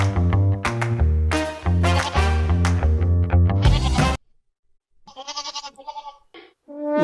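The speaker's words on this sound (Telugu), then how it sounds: "మేక మేక సౌండ్ ఎక్కడి నుంచి వస్తుందిరా బాబు" A goat bleats loudly and close in a rapid string of wavering calls, then falls silent before a few thinner, quieter bleats follow.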